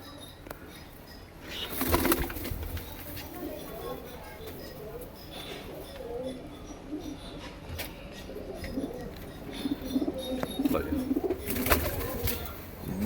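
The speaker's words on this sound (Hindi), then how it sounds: "बड़ा बड़ा तकड़ा कबूतर है भाई," Large Punjabi Malwai pigeons in Amritsar coo softly with bursts of flapping wings, fairly quiet and close, while voices murmur faintly in the background.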